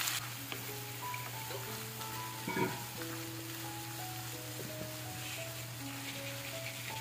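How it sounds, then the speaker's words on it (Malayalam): Shallots, dried red chilies and curry leaves fry in coconut oil in a pan, giving a steady soft sizzle throughout with faint crackles and light stirring. "കുറച്ച് വറ്റൽ മുളക്, അല്പം കറിവേപ്പില, ഇതെല്ലാം കൂടി നമ്മുടെ ഈ ഒരു വെളിച്ചെണ്ണയിൽ നല്ലോണം ഒന്ന് മൂപ്പിച്ചെടുക്കുക."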